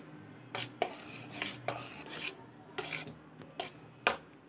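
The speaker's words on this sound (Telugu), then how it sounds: "ఇది కాస్త కలుపుకోవాలండి." Rice rava payasam with cardamom powder being stirred in a pot: close, quiet scraping and rubbing strokes of a spoon against the pot in an irregular rhythm, with no talking.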